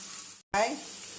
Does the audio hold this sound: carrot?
yes